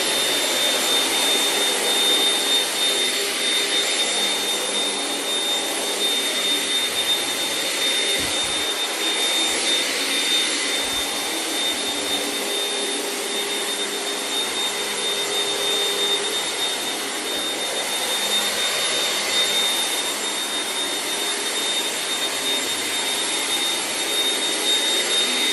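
An AEG vacuum cleaner runs steadily and loudly throughout, a constant high whine with a persistent airy rush and no pauses.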